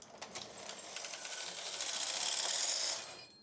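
A knitting machine carriage drawn across the needle bed to knit a single row, a rapid mechanical clatter that swells into a steady whirring rush and then stops, close and alone without talking.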